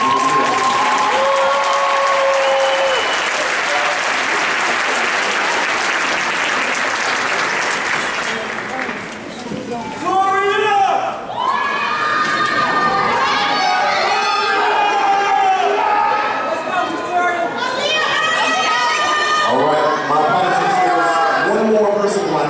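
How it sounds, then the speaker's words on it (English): Clapping and cheers fill the hall at a multicultural university graduation ceremony, a long dense wave of applause that gives way midway to talking and voices, with the crowd still audible beneath. "This would be a great time to applaud for everyone."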